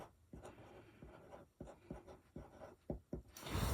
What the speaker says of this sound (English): So we're just going to write tasks.